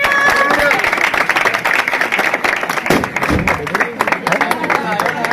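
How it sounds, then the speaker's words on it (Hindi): A group claps at an informal gathering, with rapid, uneven hand claps carrying on under lively voices and crowd chatter. "तालियां"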